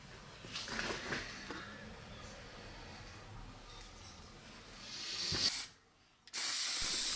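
Clear coat lacquer is sprayed onto a restored axe in short hissing bursts from an aerosol can, close by, with a louder sustained spray and a brief silence near the end.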